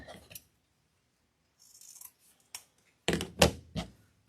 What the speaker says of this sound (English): Dovetail cut again.